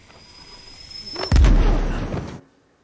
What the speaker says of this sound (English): Fucking flashbang, dude.